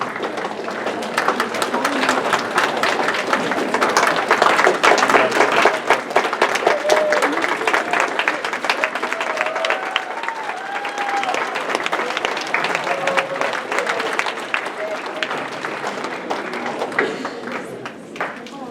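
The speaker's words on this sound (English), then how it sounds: "one more round of applause" An audience applauds at a computer animation presentation, dense, sustained clapping that swells, holds for many seconds and then tapers off, with a few voices mixed in.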